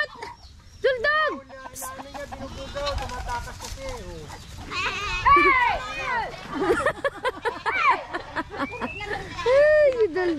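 Goats bleat repeatedly at a rural farm near a fishpond, wavering cries close by and overlapping, mixed with people talking and chickens in the background.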